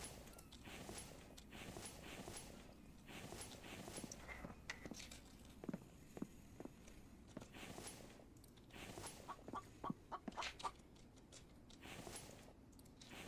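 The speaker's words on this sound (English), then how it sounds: "I hear that chicken." A chicken clucking in the survival video game The Infected, faint repeated clucks over quiet in-game ambience and footsteps.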